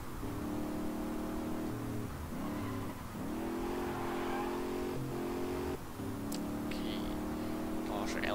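A truck engine in the police-chase driving game Alarm für Cobra 11 drones steadily with a strong tonal hum, its pitch dipping and climbing as it revs, with brief changes and faint clicks near the end.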